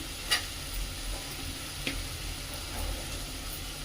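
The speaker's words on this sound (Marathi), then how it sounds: "त्यामुळे कांदा चांगला परतला जातो" Chopped onion frying in a pan with a pinch of salt, a soft steady sizzle close by with occasional light clicks of stirring.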